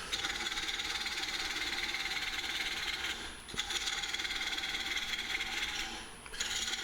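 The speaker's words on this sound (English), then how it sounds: "I had to keep the lathe spinning probably at a speed that was a little bit slower than I normally would for a bowl this" A wood lathe spins a large mesquite live-edge bowl at a slower than usual speed, giving a steady broadband rasping hiss of the tool cutting, close and continuous, with two brief dips where the cut lifts off.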